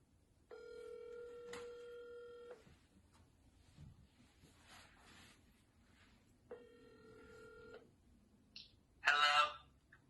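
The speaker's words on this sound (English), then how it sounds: "Okay, I'm calling him now." A telephone call rings out in the handset: two long electronic ring tones, each about two seconds with a pause between, amid faint background noise, ending with a short brighter burst.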